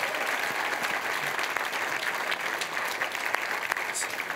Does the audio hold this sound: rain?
no